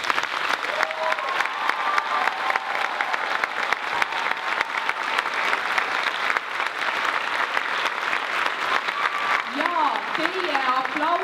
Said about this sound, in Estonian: ma palun suurt aplausi kõigile tänastele esinejatele